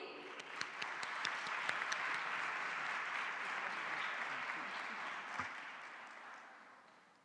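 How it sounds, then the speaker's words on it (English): Audience applause at a children's parliament session, a broad steady wash of many hands clapping from the hall that holds evenly for several seconds, then tapers off near the end. "Can you please get a round of hands of applause for our MEC?"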